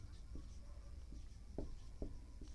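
Chalk or marker taps and strokes on a classroom board as a teacher writes during a physics lesson, a few short scratchy marks spaced irregularly, faint and close under soft room noise.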